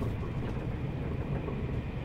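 A Dutch sprinter train pulls out of Amsterdam Centraal in an animated crash reconstruction, giving a steady, continuous low rumble of rolling wheels and engine at moderate level with no other sounds.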